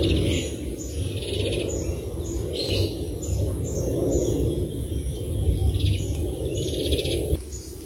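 Two myna birds chirp in grass at midday after heavy morning rain, with brief tweets at moderate distance over a steady outdoor ambient hiss.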